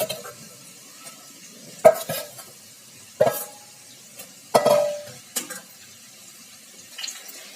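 Garlic and chickpeas fry over high heat in a pan, a soft sizzle underneath with several sharp scrapes and clinks of stirring spaced a second or so apart.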